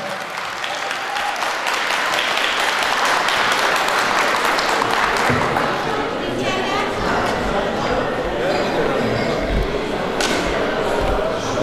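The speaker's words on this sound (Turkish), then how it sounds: "Haydi alkışlar sevgili Ahmet" Audience applause for Ahmet Serbay at a charity night for people with disabilities in Freistadt, Austria: dense, steady clapping from a crowd that fills the whole stretch, with voices mixed in.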